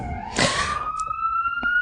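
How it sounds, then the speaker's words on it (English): An ambulance siren sounds nearby, a steady rising electronic tone held for about two seconds, with a brief burst of background noise at the start. "Here's the ambulance."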